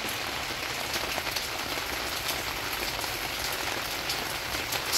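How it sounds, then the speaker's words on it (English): Steady rain patters on a tent during an outdoor barbecue catering event, a dense even hiss of drops that holds at moderate loudness for the whole stretch with no voices. "Listen to that rain."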